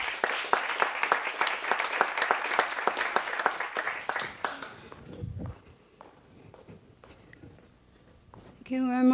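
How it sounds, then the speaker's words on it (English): Audience at a university research presentation event in Galway gives a round of applause, crisp distinct claps in a fast steady run for about four seconds, then quiet rustling, footsteps and a faint voice, with a brief tonal sound at the end. "Please give Mimi a round of applause"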